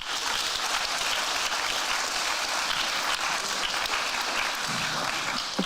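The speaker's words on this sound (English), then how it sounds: "Big applause for the jury." Sustained audience applause at a programming contest closing ceremony, dense and steady clapping from a large crowd throughout, loud and continuous.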